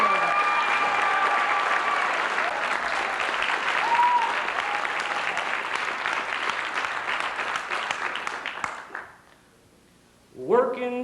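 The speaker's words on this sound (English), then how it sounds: "Let's give Pam Lewis a round of applause." Audience applause at a Reform Party Black Reformers Network gathering, loud and sustained claps from a crowd with some voices mixed in, fading out near the end before a brief new burst of sound.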